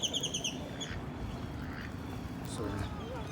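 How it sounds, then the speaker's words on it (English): Ducks at Lorenzi Park in Las Vegas give a quick run of repeated quacks at the start. Soft, scattered calls follow over open outdoor background noise, and someone speaks nearby. "Look at all these ducks."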